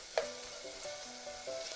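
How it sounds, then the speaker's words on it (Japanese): Carrot, lotus root and burdock stir-fry over medium heat, a quiet steady sizzle with a sharp utensil tap at the start and light scraping stirs, faint and without talk. "人参、レンコン、ごぼうを加えて中火でだいたい2分ほど炒めます。"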